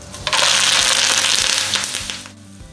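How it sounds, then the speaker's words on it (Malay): Loud, bright crackling sizzle of leaves hitting hot oil, steady and close, fading slightly toward the end, with faint background hum. "Goreng sehingga daun kari kelihatan garing."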